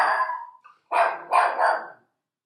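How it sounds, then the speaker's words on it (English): A dog barks several times in quick bursts, close and loud, with short pauses between the barks and no talking. "Roxy, you have to stop barking"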